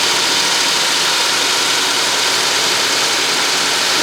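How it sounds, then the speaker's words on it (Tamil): A double cutting edge machine with two blades saws through granite stone, giving off a loud, unbroken grinding hiss that stays constant from start to finish, with no voices. "இந்த டபுள் கட்டிங் எட்ஜ் மிஷின்"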